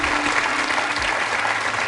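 A studio audience on a French television quiz show applauds, a steady, dense clapping from many hands that holds at full strength throughout.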